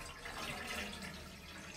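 Half a litre of water pours steadily into a heavy-bottomed pot, a soft, continuous splashing rush that stays faint and even throughout.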